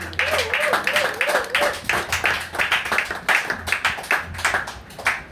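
A church congregation claps in rhythm to acclaim Jesus, steady fast handclaps close and loud, mixed with singing voices throughout.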